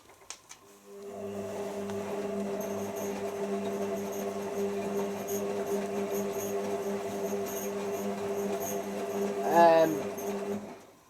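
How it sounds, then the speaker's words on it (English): A Hotpoint First Edition 1000 washing machine gives a brief, wavering squeak near the end, rising over its steady, loud running hum that fills the whole stretch. "Right, so we've got a little bit of a squeak."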